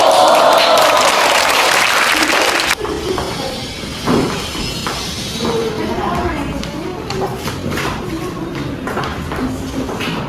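Classroom applause during a micro-teaching lesson, loud clapping from the room for about three seconds that gives way to scattered claps, thumps and talking.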